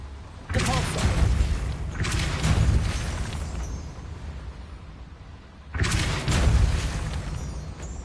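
Three loud, booming force-push blasts of the Depulso spell ring out in the game Hogwarts Legacy, each a heavy whoosh-and-thud with a lingering rumble, the last arriving after a longer pause.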